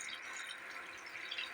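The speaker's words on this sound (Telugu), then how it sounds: "ఒక 2 గ్లాసులు నీళ్లు పోసుకుందామండి." About two glasses of water poured into a goat legs curry gravy, a brief steady hiss of liquid pouring, close and faint, no talking.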